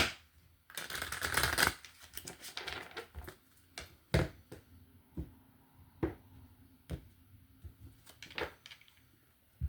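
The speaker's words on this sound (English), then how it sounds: "One more shuffle for Virgo." Tarot cards shuffled close up: a long, dense riffle burst at the start, then a run of sharp, separate snaps and flicks at uneven intervals.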